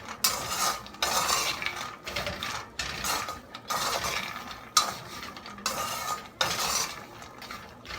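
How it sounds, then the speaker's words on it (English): Salted peanuts roasting in a pan are stirred at regular intervals, each stroke a dry rattling scrape of nuts against metal, close and moderately loud with brief quiet gaps between strokes and no voices. "Stir it in between until it gets light brown."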